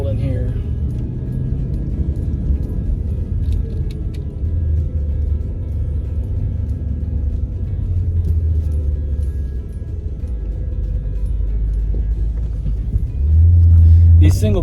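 A 2005 Maserati GranSport with a 4.2-liter Ferrari-derived engine and single-clutch gearbox pulls away in first gear, its engine a steady low rumble that swells near the end while someone talks over it.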